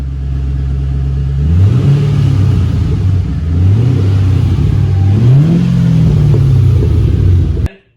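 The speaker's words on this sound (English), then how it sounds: "Give it a few revs." A 2006 Ford Mustang GT with an SLP Loud Mouth axle-back exhaust revs up and down in a couple of loud swells over a deep, steady exhaust rumble, then cuts off abruptly at the end.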